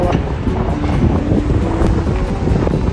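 Strong wind buffets the microphone outdoors on Saadiyat Island in Abu Dhabi near the beach, a constant low rumbling roar with gusty texture and a faint background hum, no voices.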